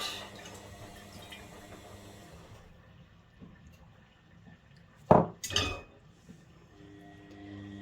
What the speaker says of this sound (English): put our dandelions into here and let it drain through into the bowl